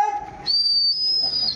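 At a pigeon-flying contest, a shrill, sustained whistle blows steadily for about a second, preceded by a brief lower whistled tone.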